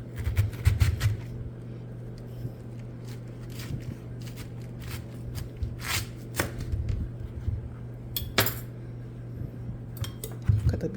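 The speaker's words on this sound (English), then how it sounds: "Cut up the cabbage like this" A knife cuts through a head of cabbage on a board, irregular crisp crunches and thuds at close range with scattered sharper clicks and brief pauses between strokes.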